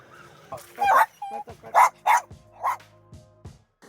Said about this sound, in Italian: non ha smesso un secondo di abbaiare